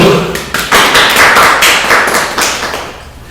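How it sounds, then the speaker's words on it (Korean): Applause from a class during a startup education lecture: a dense patter of many hands clapping together, loud and close, fading slightly toward the end. "박수!"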